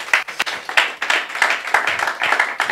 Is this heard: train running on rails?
no